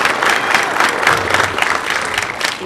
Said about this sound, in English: Give these guys one last round of applause for their hard work this year